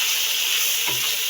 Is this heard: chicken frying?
yes